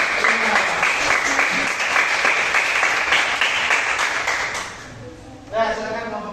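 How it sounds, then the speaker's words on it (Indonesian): Applause from a junior high school math class for group five, steady dense clapping that fades near the end as a teacher's voice and some chatter come through. "Tepuk tangan untuk kelompok"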